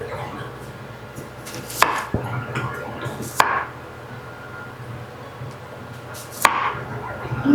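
Knife chopping vegetables on a board while preparing a traditional Polish vegetable soup, with a few sharp, distinct chops standing out above a steady kitchen background hum.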